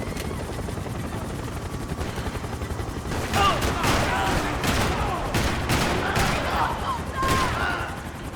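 Gunfire in Max Payne 3 during a nightclub shootout with cartel gunmen: a steady rumble for three seconds, then repeated loud, sharp bursts of shots scattered through the rest of the clip.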